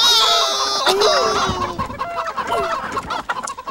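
Chickens cluck and squawk in a video game, a dense flurry of close, loud bird calls layered with game noise and clattering effects.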